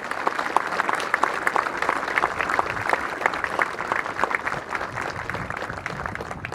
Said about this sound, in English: Let's give a round of applause for our wonderful honor guard and this wonderful band.